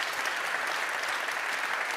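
A conference audience at a digital museum event applauds the opening speaker, a dense, even, continuous wash of clapping from a full room.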